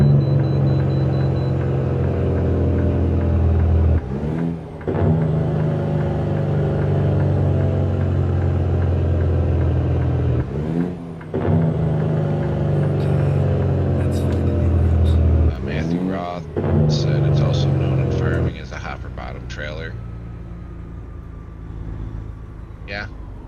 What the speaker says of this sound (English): love the sound of your truck. Is that a mod you're using for the exhaust? Yes, it is. It's an engine sound mod.